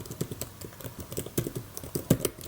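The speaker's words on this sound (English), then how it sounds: "here you can hear the sound of the keyboard" Typing on a replacement keyboard fitted to a MacBook Air, a quick irregular run of soft close-up key clicks and taps, with no talk over it.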